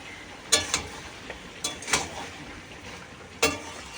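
Vegetable curry being stirred in a pan, a few sharp scraping clinks of the spoon against the metal at irregular moments over a faint sizzle, close and moderately quiet.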